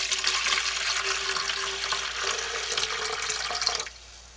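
Tap water runs steadily into a container sitting on a kitchen scale, a close, continuous hiss that stops abruptly near the end, with no talk.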